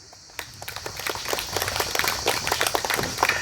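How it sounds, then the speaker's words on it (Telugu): An audience at a spiritual talk claps loudly and steadily, a dense rattle of many hands that starts abruptly and continues without pause to the end, with no speech over it. "గట్టిగా చప్పట్లు తట్టండి."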